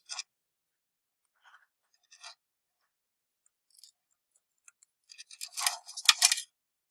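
A spring-loaded wire nut is twisted onto copper wire, producing faint, sparse scratchy clicks at first, then a denser burst of close, gritty twisting scrapes near the end against a silent background.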